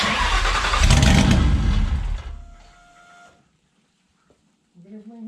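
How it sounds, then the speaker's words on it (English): Starter motor cranking a Ford Coyote engine swapped into a Foxbody Mustang, a loud close whirring churn for about two seconds that winds down and stops, followed by quiet and a brief voice. "That's just kicking the starter on."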